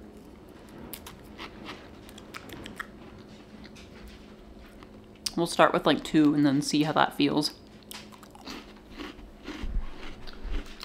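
Bland crackers crunched while eating, dry crisp bites and chewing close to the mouth, quiet before and after a burst of talking in the middle.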